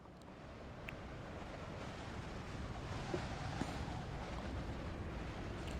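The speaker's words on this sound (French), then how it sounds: "Coup de vent." A gust of wind blows steadily through a Dark Souls Remastered game scene, a broad, continuous rushing roar lasting several seconds with no one speaking.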